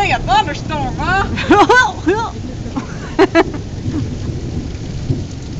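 A Colorado thunderstorm with steady rain and rumbling thunder runs throughout, while people talk close by and loudly over it.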